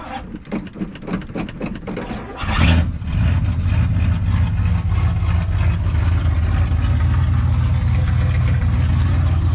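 A 1978 Chevrolet C10 square-body pickup cranks with rapid starter pulses, then catches and settles into a loud, steady cold idle close by, with no talking.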